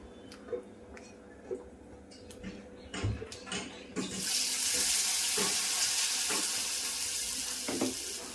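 Sliced okra (bhendi) drops into hot oil in a pan on the stove, first a few soft clinks and knocks, then a loud broad sizzle that swells and holds steady with small pops and utensil taps.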